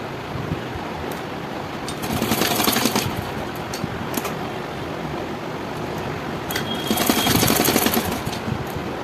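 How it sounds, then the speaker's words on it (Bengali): A sewing machine stitches around the front neckline of a katori blouse, with two distinct bursts of rapid mechanical stitching separated by a quieter pause over low room noise. "আস্তে আস্তে ঘুরিয়ে ঘুরিয়ে সেলাইটা করবেন।"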